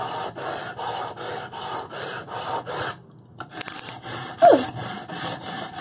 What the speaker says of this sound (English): He's just cutting meat.